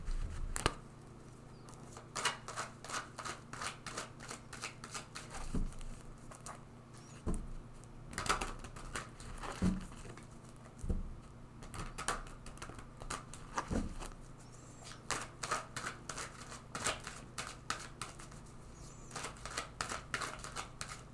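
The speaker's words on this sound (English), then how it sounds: "So I'm going to shuffle this deck several times." A tarot card deck is shuffled repeatedly, giving soft papery riffles and flicks with sharper taps scattered through, fairly quiet and close with no talking.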